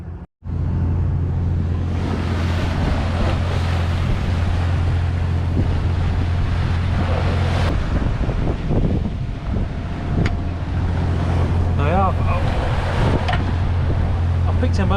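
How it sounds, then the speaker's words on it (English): Wind buffets the microphone and confused seas slosh around a Nordhavn 47 motor yacht off Land's End, with a steady low engine hum underneath and a person talking over the gusty, rushing noise. "I picked a moment when the waves aren't too bad."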